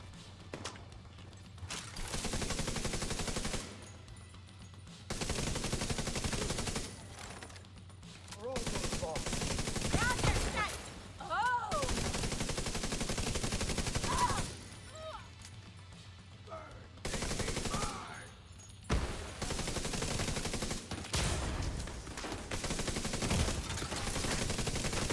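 Video game gunfire from a machine gunner reduced to firing a pistol: long bursts of dense shooting alternate with short pauses, loud and close throughout.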